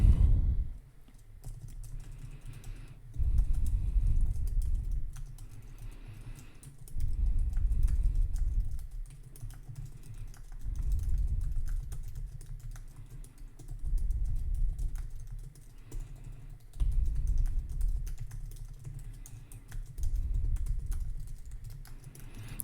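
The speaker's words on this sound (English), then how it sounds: "Are you getting some of those good ASMR typing sounds?" Typing on a computer keyboard while laying out a zine, bursts of soft close key clicks alternating with brief pauses, steady and intimate, with no talking.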